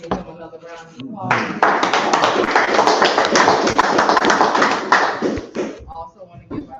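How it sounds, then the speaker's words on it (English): Audience at a Marcus Garvey Day community event giving a speaker another round of applause, a loud burst of clapping swelling in after brief talk and fading out near the end. "give him another round of applause"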